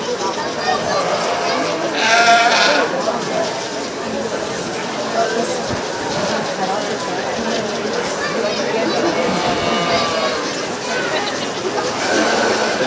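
Sheep bleating in a purebred sheep class at a 4-H/FFA county fair show, a few calls rising over a steady, busy barn crowd murmur with people talking throughout.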